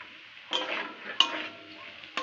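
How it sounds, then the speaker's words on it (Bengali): Capsicum and green chilli pieces stir-frying in a pan, a steady close sizzle broken by three sharp scraping stirs of a spatula at regular intervals, with no talk. "দিয়ে আর কিছুক্ষণ আমি এইভাবে নেড়ে একটু ভেজে নেব"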